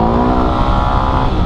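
Yamaha WR250R motorcycle engine revving hard and close during a wheelie attempt, a loud steady roar holding its pitch for a second and a half with no voices.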